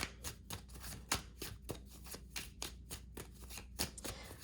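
A deck of gold oracle cards being shuffled by hand for a card reading, making soft, rapid riffling and slapping bursts in a steady irregular rhythm. It is heard close up and alone, with no voices.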